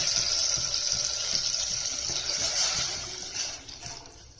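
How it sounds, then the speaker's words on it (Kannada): A continuous stream of water pours into a pan holding tamarind for a lentil rasam, a steady hissing splash that tapers off toward the end. "ಇವಾಗ ನೀರು ಹಾಕೋಣ"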